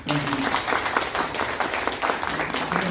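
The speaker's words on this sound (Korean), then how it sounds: "우리 호남회장과 호남회원 여러분께 다시 한번 감사의 박수 올려드리겠습니다" A church congregation at a closing worship service applauds in thanks, a dense steady patter of many hands with voices faintly mixed in, filling the space evenly.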